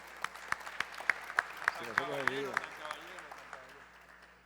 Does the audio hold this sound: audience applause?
yes